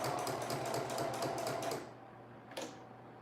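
A sewing machine stitches a summer dress in a fast, even mechanical chatter, running steadily for almost two seconds before it stops, followed by a single sharp click in near silence.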